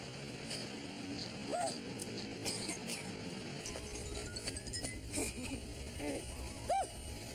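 A dog gives two brief, high yelping barks, one early and one near the end. Both are faint and distant against a quiet background hiss.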